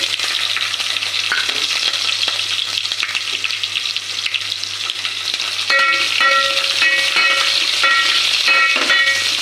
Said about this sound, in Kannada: ಈರುಳ್ಳಿ ಒಂದು ಸ್ವಲ್ಪ ಚೆನ್ನಾಗಿ ಫ್ರೈ ಮಾಡ್ಕೊಳ್ಳಿ